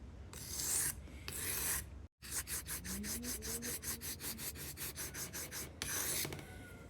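A broken knife edge is ground by hand in bursts of rasping strokes: a few long scrapes, a brief pause, then a quick run of rhythmic short passes followed by more long strokes, close and fairly quiet.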